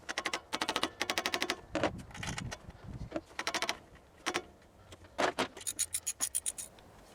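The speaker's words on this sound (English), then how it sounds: "Tighten the bolts up." Bolts are tightened on a Chevy truck alternator, with quick bursts of rapid, sharp clicking repeating in short runs separated by brief pauses and scraping. The sound is close and moderately loud.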